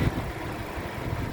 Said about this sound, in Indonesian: untuk memperhatikan kondisi mesin masih bagus, kita bisa pertama kita dengarkan ritme suaranya